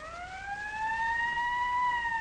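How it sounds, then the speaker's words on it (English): An ambulance siren wails steadily, a rising then sustained tone with harmonics, fairly close and growing louder, with no other sounds over it. "There's the ambulance now."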